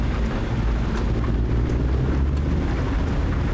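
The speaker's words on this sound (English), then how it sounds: "it'd be nice to be able to hear the rain on the road" Steady rain pours onto the road around a truck in American Truck Simulator, heard through an open window as a constant, full hiss with a low rumble underneath.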